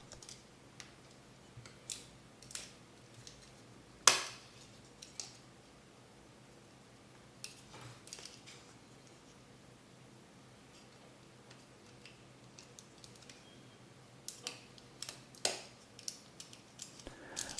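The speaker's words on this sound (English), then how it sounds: "These are Cherry MX key switches." Scattered Cherry MX mechanical key switches click in short, irregular bursts, close and fairly quiet, with pauses between presses.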